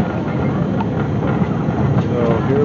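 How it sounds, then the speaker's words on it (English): Pixie Woods amusement park train ride rolling along, a steady close rumble with faint rhythmic clatter and low engine drone. "So here we've got the train"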